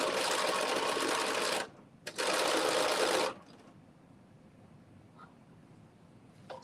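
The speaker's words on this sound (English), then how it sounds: "So I am now stitching the bodice to the skirt and also creating the bottom part of the casing, all in one step." A sewing machine runs in two fast bursts, stitching a bodice to a skirt and forming a casing, a loud steady whirring that stops for a moment between runs and then gives way to quiet.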